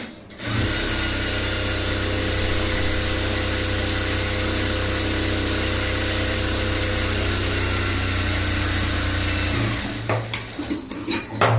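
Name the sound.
sewing machine stitching a straight seam on a blouse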